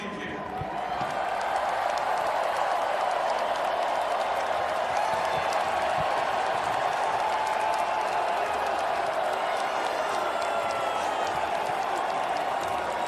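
A stadium crowd at the Super Bowl cheers and applauds for Seattle's championship win, a dense, steady roar of clapping and shouting that holds loud and unbroken throughout.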